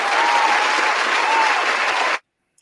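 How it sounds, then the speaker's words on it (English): Dense, steady applause from a crowd at a live show, loud and continuous for about two seconds before cutting off abruptly into silence. "let's give shouts out or rounds of applause"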